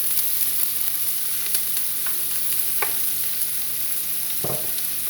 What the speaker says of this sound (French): je vais mettre mes petits morceaux de lardon fumé pour donner un peu de goût.